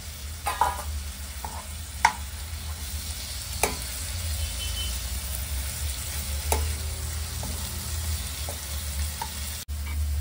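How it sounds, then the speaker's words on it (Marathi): Prawns fry with cooked onion in a pan for a fenugreek curry, a low steady sizzle punctuated by occasional sharp clacks of a spatula against the pan, close and without speech. "आता कांदा शिजलेला आहे, आपण त्यात कोलंबी घालूया।"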